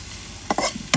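Onion, crushed garlic and ginger fry in oil with cardamom pods, cinnamon sticks and bay leaves, a low steady hiss broken by a few quick scraping stirs near the end.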